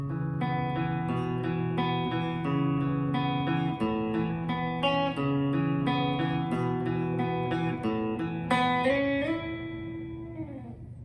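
Electric guitar plays the main riff of a song, a steady run of sustained picked notes that ends with a slide up and a fading ring, heard alone with no voices.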